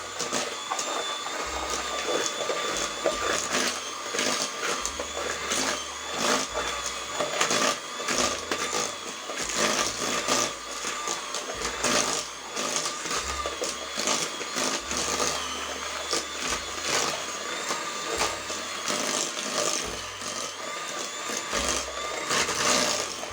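An electric mixer whirs steadily through gluten-free vanilla cake batter, its motor drone wavering in pitch and load as the beaters work, close and continuous for over twenty seconds, with no talking.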